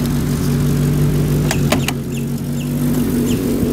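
A 1971 Rolls Royce Silver Shadow engine runs steadily with a smooth, low mid-range hum, close and continuous throughout, broken by a few brief clicks or knocks near the middle.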